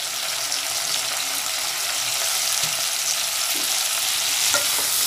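Okra sizzles and fries in an open pan for soup, a steady, close hiss running throughout with occasional stirring scrapes.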